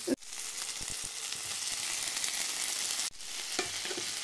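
Chopped tomatoes sizzle in a hot pan alongside onions, a steady bright frying hiss broken twice by brief scrapes as they are stirred, heard close and alone.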